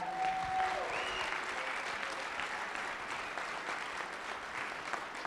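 An audience at the GIPA 2022 celebration applauds the national IP organizations with sustained, dense clapping at a moderate level. A brief tonal ring sounds near the start, and the applause holds steady throughout.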